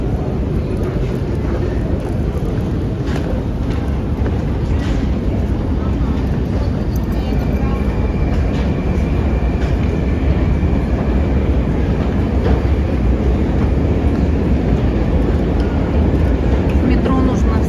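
A Moscow metro train in motion gives a loud, continuous low roar with rattling and rushing noise that holds steady throughout the ride.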